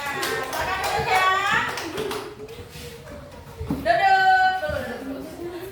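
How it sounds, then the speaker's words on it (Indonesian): Elementary school children clap for a classroom game winner, scattered close hand claps mixed with lively overlapping children's and adult voices. "tepuk tangan untuk pemenangnya"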